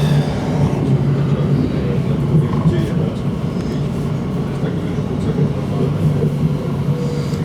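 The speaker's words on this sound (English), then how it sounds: "Mind the gap between the train and the platform." An Elizabeth Line Class 345 train pulls into Hanwell station, a steady loud low rumble and rolling hum of the train running throughout, with a platform announcement heard over it.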